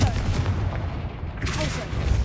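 A fiery Confringo spell blast in Hogwarts Legacy on PS5, heard as a dense booming burst amid ongoing battle noise, with a second surge of rumbling impact near the end.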